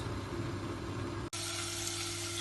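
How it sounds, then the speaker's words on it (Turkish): Meat frying in hot oil in a small pot for an eggplant casserole, heard as a steady, dense sizzle with a brief break partway through, then continuing close and alone without talk. "Eti tekrar yağda kavuruyoruz."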